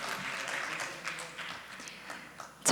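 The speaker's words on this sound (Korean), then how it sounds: "네, 박수 부탁드리겠습니다" Audience applause fills a room at a tourism forum session, a steady, moderately distant patter of clapping that holds throughout, with a sharper burst right at the end.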